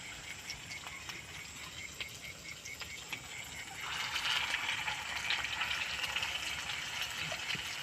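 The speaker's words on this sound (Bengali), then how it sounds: "আমি এইভাবে দিয়ে দিয়ে দুটো দুটো করে সব ভেজে নেবো লাল লাল করে" Meat pieces fry in hot oil over a wood fire, a steady crackling sizzle that grows louder and denser about halfway through as more pieces drop in, close and continuous with no talk.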